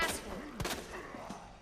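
Handgun shots fired at zombies in Resident Evil 2 Remake, playing as Claire: two or three sharp reports about half a second apart, moderately loud over a low game ambience.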